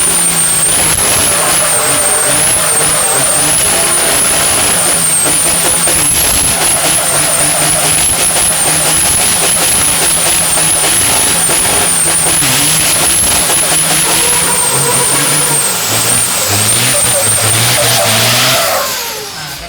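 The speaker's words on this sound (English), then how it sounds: "it's 8 miles, no prep drag racing with big trucks." Big trucks drag racing over an eighth-mile no-prep strip at a truck event in Thailand, loud roaring engines revving and droning close by with a high whine riding on top, easing off near the end.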